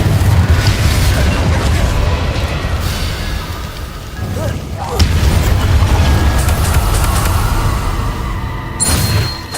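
A Confringo blast spell bursts in the Hogwarts Legacy video game, one loud booming explosion within a dense, steady stream of game effects and rumble, with a second burst swelling near the end.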